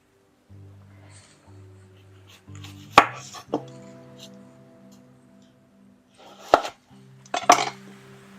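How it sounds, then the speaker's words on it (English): A knife cuts half an onion on a cutting board, giving a few sharp separate chops and knocks with quiet gaps between them, while a low tonal hum runs underneath. "we are going to start slicing up roughly a half of an onion"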